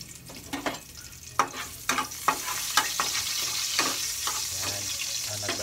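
Garlic frying in a pan, a steady sizzle broken by sharp scrapes and clinks as a utensil stirs it, close and moderately loud.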